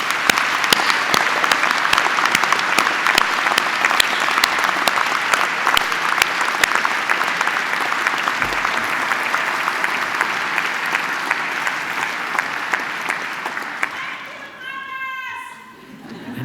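A graduation audience gives loud, sustained applause for friends, family and partners. Dense clapping fills most of the stretch with some crowd noise mixed in, then fades toward the end as a brief voice emerges.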